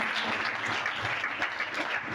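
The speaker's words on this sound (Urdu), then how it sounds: "تو زوردار تالیاں بجائیے اس پاکی کے لیے" Audience at a Christian ministry gathering applauding in a steady, moderately distant wash of claps with no talking over it.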